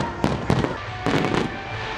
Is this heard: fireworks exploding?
yes